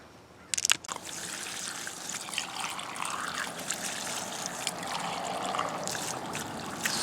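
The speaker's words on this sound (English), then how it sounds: "I'm going to go ahead and get the hose on so Shan Chan can start rinsing." Water runs steadily from a garden hose for rinsing rock-polishing tumbler sludge, a continuous close trickling gush after a few sharp clunks at the start, with no talking.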